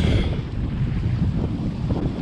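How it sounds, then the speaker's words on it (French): A sailboat runs at 7 knots under genoa alone, about 80 degrees off the wind, on the Casamance in Senegal. Steady wind buffeting and rushing water fill the scene without a break. "On est à 7 nœuds sous génois seul, à 80 degrés du vent, direct sur l'objectif."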